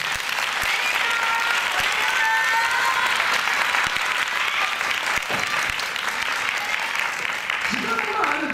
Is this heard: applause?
yes